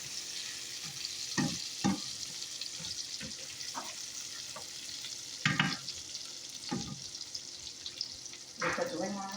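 Sausages frying in a pan ahead of cabbage being added, a steady close sizzle broken by scattered clinks and scrapes of stirring, with occasional louder clatters from the pan.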